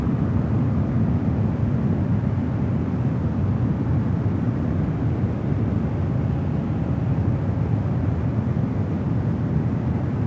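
A Boeing 777 jet lines up on runway 28 left at San Francisco airport, heard as a steady, distant, rumbling engine roar that holds even throughout, with no talk.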